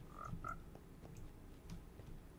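A frog in Minecraft gives a couple of short croaks early on, then faint scattered game sounds follow over steady background ambience, with no voices.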